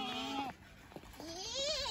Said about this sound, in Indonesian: kambing-kambing teman-teman